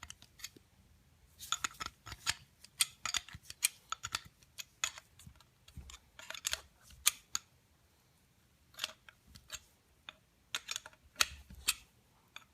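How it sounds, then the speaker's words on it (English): A 7/16 inch wrench ratchets and clicks while tightening the ignitor points on a John Deere hit-and-miss engine, giving close, irregular bursts of small metallic ticks and scrapes separated by short pauses. "I grab my 7/16 inch wrench and I start tightening that up"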